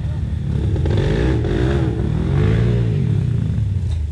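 A motorcycle engine revs hard on a steep uphill climb, close and loud, with pitch swooping up and down through several throttle surges over a rough clattering undertone.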